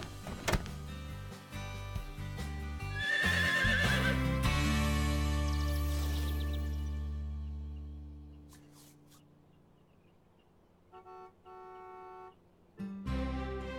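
A cartoon horse gives a loud, drawn-out whinny, then a few sharp hoof clip-clops and clatters follow, ending in near quiet with brief scattered knocks, and no one speaks.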